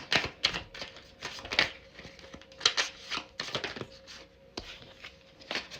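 Tarot cards are shuffled and riffled in quick, uneven bursts of papery slaps and snaps, close and fairly quiet, with short pauses between.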